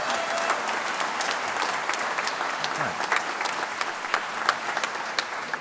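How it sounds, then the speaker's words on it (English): An audience at a championship show gives a steady round of applause, dense clapping that holds at an even level, with a brief spoken remark near the start. "So just give them a quick round of applause."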